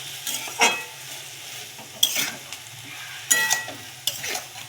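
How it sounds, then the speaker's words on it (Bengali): Meat with tomato, salt and spices is sautéed in a pan under a continuous sizzle, with four distinct spatula scrapes spaced evenly across it. "মাংস টমেটো মশলা সব কিছু ভালো করে কিছুক্ষণ কষাবো"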